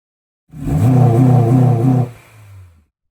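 Honda CL9 Accord Euro engine revving hard from silence, a loud, close roar with a pulsing, throaty tone that holds for about a second and a half before dropping to a lower idle-like hum and fading out.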